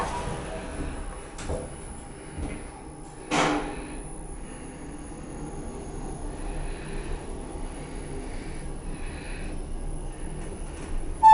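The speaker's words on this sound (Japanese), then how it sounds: "ドアが閉まります。" An elevator at Hikone Station on the JR and Ohmi Railway lines closes its door with a sharp thud, then the car moves upward with a low, steady rumble and hum, with faint voices underneath.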